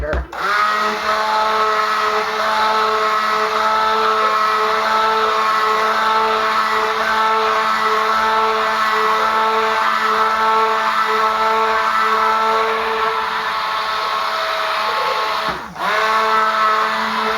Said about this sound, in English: And I always forget to burp my blender.